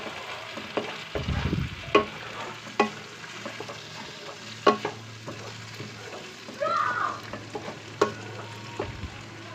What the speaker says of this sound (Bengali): আমি জাস্ট এটাকে তেলে হালকাভাবে লবণ দিয়ে ফ্রাই করে নিচ্ছি